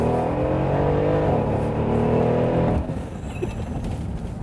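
A Mercedes-AMG SL 63 with a 5.5-litre engine and sport-tuned gearbox accelerates hard, its engine note rising through a gear before cutting off abruptly into a quieter rumble, close and loud with no talk.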